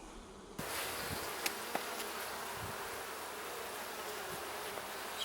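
Honey bees buzz steadily around a hive frame as it is handled during an inspection, a dense, continuous close-up drone filling the whole clip with a few faint knocks.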